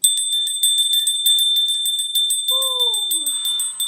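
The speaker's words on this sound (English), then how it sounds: "Let's ring the bell." A small bell rings repeatedly in a steady, bright rhythm during a chanting session, close and clear, ending with a falling tone as it fades.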